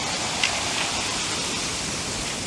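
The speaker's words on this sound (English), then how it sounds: "And I'm trying to dodge the waves again." Sea waves break on a rough shore along the Copper Coast, making a loud, continuous hiss and roar of churning surf close by, with no voices.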